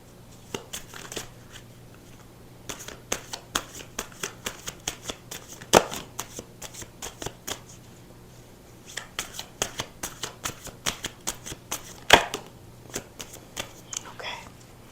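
Tarot cards being shuffled by hand, quiet repeated riffling clicks in irregular bursts with brief pauses between them, close and soft.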